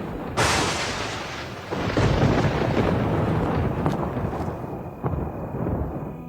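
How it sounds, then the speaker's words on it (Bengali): A loud cartoon thunder-strike effect during a stormy night scene, a sudden sharp crack followed by a long rumbling roll that slowly fades, with smaller rumbles near the end. "জোরে একটা বাজ পড়ে।"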